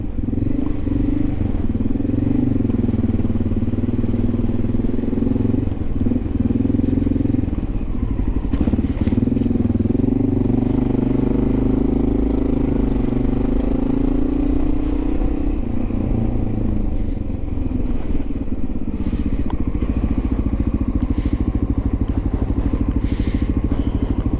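A Honda XR650L motorcycle thumps steadily while being ridden on city streets, its engine drone continuous and close with small shifts in revs and some rattling.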